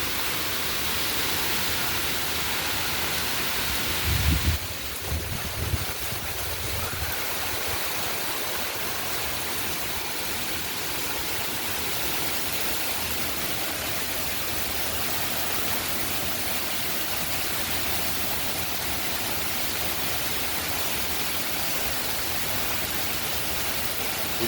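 Heavy rain and wind from Hurricane Francine in 2024, a dense, continuous rushing roar that stays loud and even throughout, with a brief gustier surge near the start and no talking.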